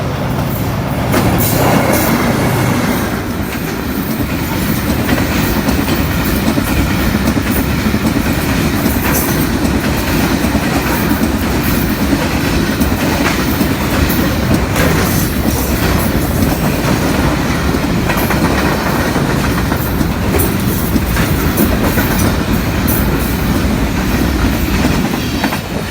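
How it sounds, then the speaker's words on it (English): A fast cargo train roars past on a railway track in Pakistan, loud and close, with continuous rumbling and rhythmic clickety-clack of wheels over rail joints throughout, no speech. "this cargo train is very fast"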